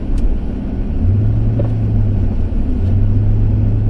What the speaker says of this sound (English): Driving really slow because of the snow today.